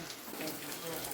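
Heavy rain pours down in a dense, steady hiss, close and loud throughout, with a voice talking faintly underneath.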